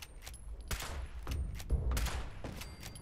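Turret machine gun fire in Fallout 76 crackles in several quick bursts of sharp shots over about three seconds, fairly close and moderately loud, with no talk.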